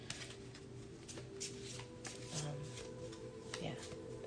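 A deck of oracle cards is shuffled by hand in a series of soft riffling bursts, close and quiet, under a faint background hum.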